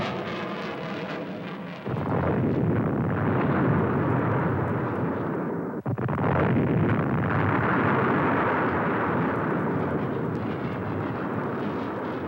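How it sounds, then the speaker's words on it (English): Tactical airstrike explosions at Khe Sanh during the Vietnam War, heavy rumbling blasts that swell into a long sustained roar after a quieter opening, with a sharp crack midway. "Tactical airstrikes soon average 400 a day."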